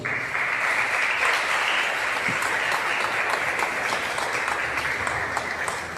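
Congregation clapping in church during a worship service, a dense, sustained round of applause from a large crowd lasting several seconds at an even, fairly loud level.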